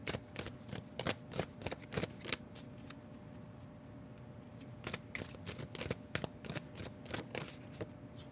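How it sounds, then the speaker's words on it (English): Tarot cards shuffled by hand during a psychic reading, bursts of quick riffling flicks in clusters with short pauses between, close and crisp but fairly quiet. "I'm going to shuffle cards for you."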